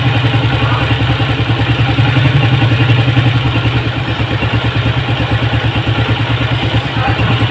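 Honda CG 125 motorcycle engine idling steadily after the throttle is eased off, a close, even mechanical putter with a rapid regular pulse throughout, no talk.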